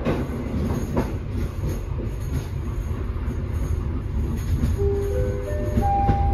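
A commuter train pulls into Sidoarjo station, with steady wheel rumble and rattling joints under continuous noise, then rising wheel squeal tones near the end as it brakes.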